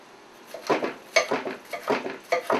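A knife chops long pepper for pepper steak on a board, landing in about eight irregular, close, crisp strokes with no talk.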